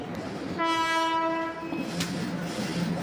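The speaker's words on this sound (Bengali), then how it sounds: "এই তো চলে আসছে সরাইঘাট এক্সপ্রেস" The Saraighat Express pulls into a railway station and sounds a loud, sustained horn blast of about a second over a rumbling train and ambient station noise.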